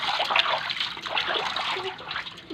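Heated water is poured over dogs during a bath, a loud, steady splashing gush close by that runs continuously without talk.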